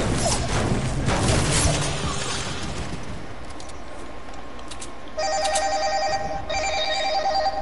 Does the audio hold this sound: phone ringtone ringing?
yes